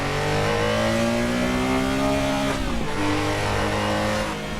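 A 1974 Porsche 911 3.0 RSR race engine in Assetto Corsa revs hard and steady, pitch climbing through a gear, dipping briefly at a shift, then pulling on again, loud and close with no talking.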